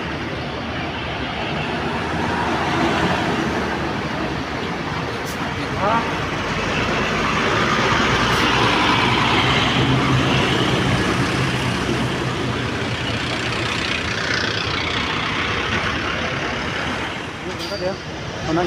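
A bus engine rumbles at idle inside Bekasi bus terminal, a loud continuous drone with surrounding traffic noise, a few faint clinks and a voice talking over it.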